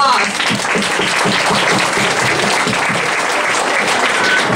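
Audience applause at a convention costume contest, steady dense clapping from a crowd, loud and continuous throughout with some cheering mixed in.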